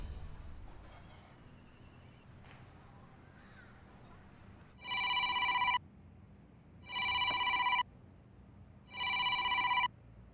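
A telephone rings in three short electronic bursts, evenly spaced with brief pauses, over a quiet background hum.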